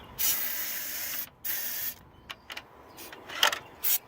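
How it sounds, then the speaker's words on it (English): Short hissing bursts of fuel sprayed from an aerosol can into a car's engine intake, several quick squirts with pauses between, close and fairly loud. "gonna open this and spray some fuel down in here."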